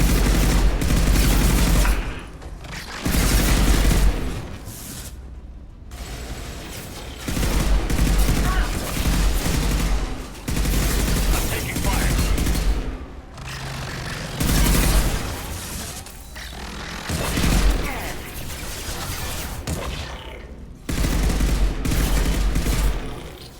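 Sustained rifle fire from Mass Effect 2 Legendary Edition, dense bursts of shots rattling on almost without pause, loud and close, with brief gaps between volleys.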